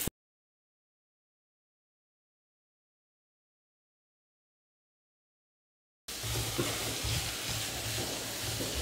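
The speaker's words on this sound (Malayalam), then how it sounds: "സവാള നമുക്ക് നന്നായിട്ടൊന്ന് വഴറ്റിയെടുക്കാം" Chopped onions sauté with ginger and garlic in a pan. After a long silence, a close, steady sizzle with soft stirring scrapes begins suddenly and lasts about three seconds.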